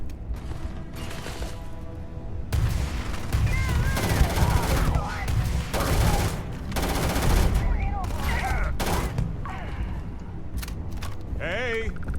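Rapid gunfire from a weapon loaded with white hot rounds in the game Starfield, bursts of shots with mechanical clatter and creaks, a voice talking in between.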